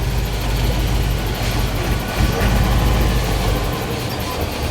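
A truck engine rumbles loud and steady nearby on a dusty road, swelling briefly partway through before settling into a continuous low drone.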